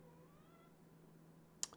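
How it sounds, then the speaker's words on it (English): A male cat gives a faint, drawn-out meow in a quiet indoor room, followed by a single sharp click near the end. "Yes, Chai the cat, would you like to join in on the video?"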